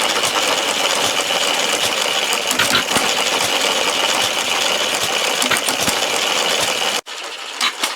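A billet-fabricated model engine with a governor mechanism runs at an exhibition, a dense, steady mechanical clatter of rapid ticking and whirring that cuts off abruptly near the end, leaving quieter hall noise.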